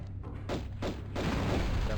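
Pistol gunshots in Tomb Raider Remastered, a quick series of four or five sharp, fairly close reports at a steady pace, with a louder rumbling thud building underneath toward the end.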